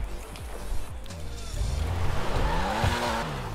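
Porsche Targa driving in GTA 5, engine revving with tire squeal and skidding throughout, loud and close, steady with no pauses.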